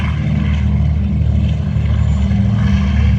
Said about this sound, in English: There she is, taking off down the runway.